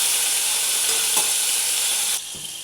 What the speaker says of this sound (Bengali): পনিরটা একটু আমি লালচে করে ভাজবো।